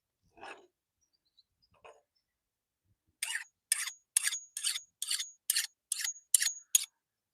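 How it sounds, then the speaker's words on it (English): A kitchen knife is drawn along a sharpener in nine crisp, evenly spaced scraping strokes, close and clear against near silence, after a couple of faint isolated scuffs. "Sharpen your knife up."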